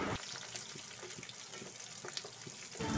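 Cashews frying in a pan with softened onions for shahi paneer, giving a steady, low-level sizzle and hiss with faint scattered pops and clinks throughout, no talking.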